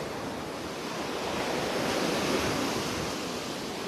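Surf waves break and wash onto a beach in North Naples, Florida, on a rainy morning, a continuous broad roar that swells slightly in the middle, with no voices.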